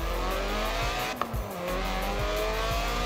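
A Lotus Elise, a mid-engined, rear-wheel-drive 90s roadster, driven in the video game Forza Horizon 4, its engine revving and shifting steadily with tire squeal and a brief knock, loud and continuous without any voices.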